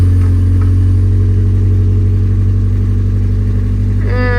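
A truck's engine runs loud and close at a steady idle, a low continuous rumble with a faint exhaust tick, then a brief rise in revs near the end.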